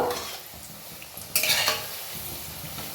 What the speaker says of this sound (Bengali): এইভাবে একে একে আমি ছাকা তেলে খাজাগুলোকে ভেজে নেব